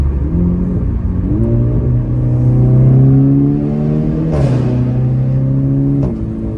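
A Cupra Ibiza 6J Bocanegra engine drones steadily and loudly through a tunnel, the pitch rising and shifting as it revs, with a reverberant boomy exhaust rumble.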